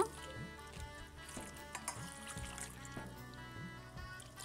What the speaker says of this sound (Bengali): এবারে কচুটাকে ভালো করে জল দিয়ে ধুয়ে নিব